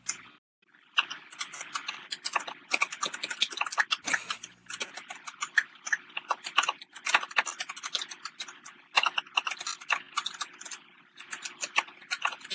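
Rapid, steady clicking of a noisy computer keyboard being typed on, close and fairly loud, with no talk over it for about twelve seconds.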